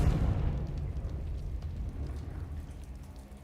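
A Confringo blasting spell goes off in Hogwarts Legacy, a deep rumbling boom with a crackling tail that fades slowly over a few seconds.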